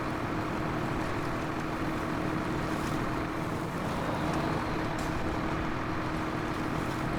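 Steady engine drone of the HX520 truck roaming freely in SnowRunner on Big Salmon Peak, Yukon, a continuous low rumble with broadband noise holding evenly throughout, no voices.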